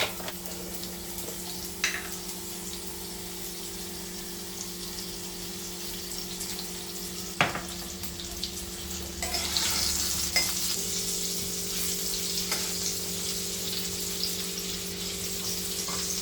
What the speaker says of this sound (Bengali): এবার আলুটা আস্তে আস্তে করে ভেজে নেব